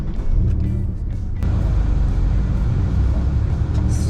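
A Mitsubishi GTO twin turbo pulling away from a stop, its low engine rumble building and holding steady from inside the car.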